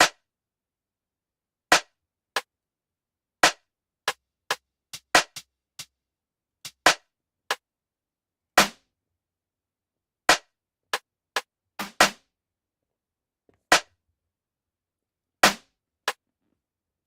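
Layered snare drum samples fire as isolated sharp cracks against silence, about twenty hits at an irregular spacing, some louder than others, each decaying quickly.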